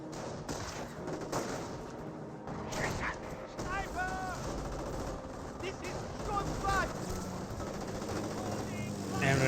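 StG assault rifles firing in the WWII strategy game Company of Heroes, bursts of gunfire mixed with distant battle noise and sandbagged combat.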